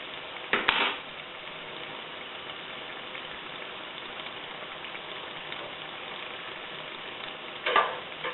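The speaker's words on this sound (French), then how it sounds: "Donc les beignets cuisent au fur et à mesure." Beignets frying in hot oil, a steady low sizzle running throughout, with brief louder crackling bursts near the start and again at the end.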